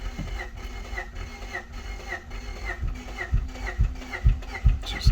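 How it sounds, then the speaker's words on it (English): A Honda Accord CB7 engine cranking over with one cylinder starting to catch, a rhythmic whirring churn with regular chirps and deepening low thumps that grow louder toward the end. "Now you can kind of hear one cylinder starting to catch."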